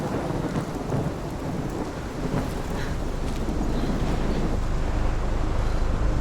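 A thunderstorm in the video game Life is Strange, set in Oregon, rumbles with heavy rain and deep rolling thunder, forming a dense, constant roar that stays loud across the whole stretch with no speech.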